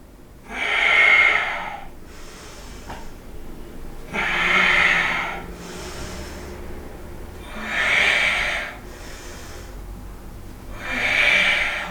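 Deep breaths during a power yoga session: four slow, rhythmic airy exhalations spaced a few seconds apart, close and fairly loud, with quieter inhales between them.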